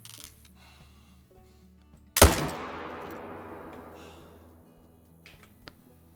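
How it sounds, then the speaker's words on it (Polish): A single loud rifle shot fired at a bear in theHunter: Call of the Wild, a sharp crack at about two seconds followed by a long fading echo, with quiet game ambience before and after. "musimy chyba się pospieszyć i oddać strzał do tego niedźwiedzia"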